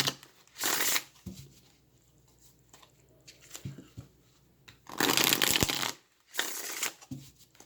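A deck of tarot cards is shuffled close up in several quick, crisp bursts of riffling and sliding, separated by short pauses.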